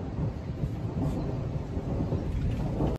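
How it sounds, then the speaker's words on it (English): Thunder rolls outside during a rainstorm, a continuous low rumble mixed with the steady patter of rain, heard without any talking. "Thunder started outside."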